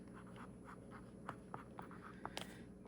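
A Conklin fountain pen nib moves across paper in soft, faint scratchy strokes, a quiet intermittent scrape with a few slightly louder ticks near the end, over low room hiss.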